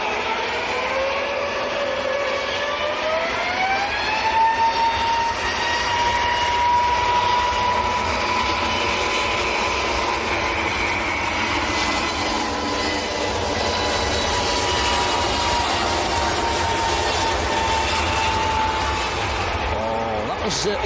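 An EasyJet airliner departing Manchester airport for Lanzarote produces a loud, sustained jet roar with a climbing engine whine that levels into a steady tone, lasting throughout as it rolls and climbs away.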